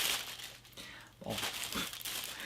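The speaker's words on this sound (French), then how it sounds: "Le traditionnel papier bulle." Bubble wrap crinkles and rustles close up in uneven bursts, moderately quiet, with a brief pause midway.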